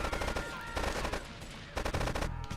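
AK-47 fire in GTA III, rapid automatic bursts in two long strings with a brief pause between, crisp and steady under faint game ambience.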